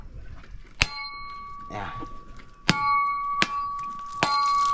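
A fresh coconut struck open in village cooking, giving several sharp ringing clangs spaced a second or so apart, each with a bright metallic ring that lingers, while people talk briefly in between.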